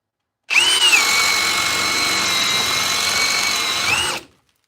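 A power drill spins a Bosch paddle bit through wood. The close, loud whine starts sharply, holds steady for about three and a half seconds while the bit cuts, then winds down and stops.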